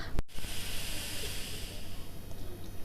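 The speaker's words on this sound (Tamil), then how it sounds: "பாருங்கள் பால் வந்து கொதிச்சிருச்சு" A steady soft hiss with a low hum beneath it, milk heating to a boil in a pot on a stove, preceded by a brief sharp click near the start.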